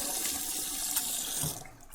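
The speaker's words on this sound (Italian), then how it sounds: "Mi sto sciacquando il viso, eh?" Running tap water splashes continuously as a person rinses their face at a sink, a close, steady rush that briefly drops away near the end.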